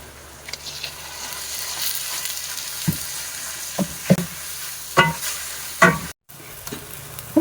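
Ground meat frying in a pan for pancit palabok, a continuous close sizzle punctuated by several sharp stirring knocks and scrapes.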